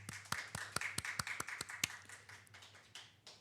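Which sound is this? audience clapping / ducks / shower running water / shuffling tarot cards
audience clapping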